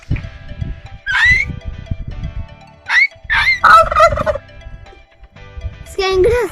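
A turkey gobbles in several bursts of rapid, warbling calls, close and loud, with quieter gaps between calls.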